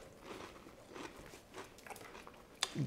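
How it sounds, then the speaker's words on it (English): Close, quiet chewing and biting of a make-ahead brunch dish, with soft crunchy bites repeating irregularly over a few seconds and a sharper crunch near the end, with no talking. "I'm actually going to eat this."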